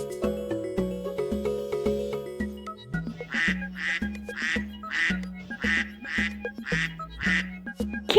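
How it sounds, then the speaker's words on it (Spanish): A duck quacks loudly in a quick run of about eight evenly spaced quacks, up close and alone, after a few seconds of other animal sounds. "¡Claro! ¡Era el pato!"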